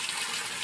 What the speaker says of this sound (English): Have the 800 gallon per hour pump water coming in.